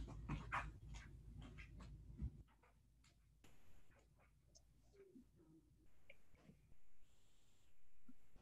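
A dog whimpers and pants in a quiet room during a home yoga and meditation session, producing faint, intermittent whines and breathy sounds close by with small shuffling noises, and no one speaking.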